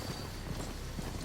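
Horse hooves clip-clop in the video game Horizon Forbidden West, a soft, steady walking beat of about three footfalls under a constant bed of game ambience and noise.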